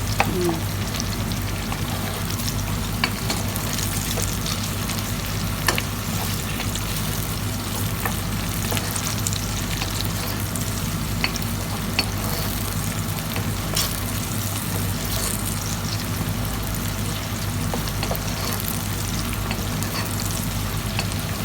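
Onions fry in a pan for chicken marag, a dense, even crackling sizzle that carries on without a break, with a constant low hum underneath.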